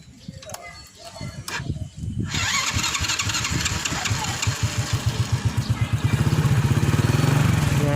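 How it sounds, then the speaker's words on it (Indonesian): A Honda C100 motorcycle engine cranks over with a few clicks and catches. It then settles into a steady, loud, rapid idle putter that runs on to the end. "nyalain mesin yuk, kita dengerin mesin gas C100 Honda ini"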